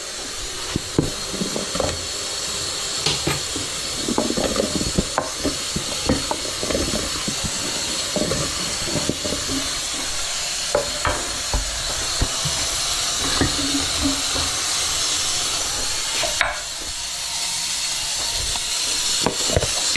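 Potatoes hit a hot pan of onions and liver for Hungarian braised liver, and a steady loud sizzling hiss fills the scene with scattered clicks and taps from utensils and stirring throughout.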